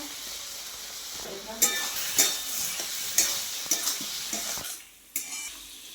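Frying in fish oil in a pan with chillies and coriander, heard as a close crackling sizzle broken by several sharp metallic clinks and scrapes of a spoon, the sizzle dropping briefly near the end.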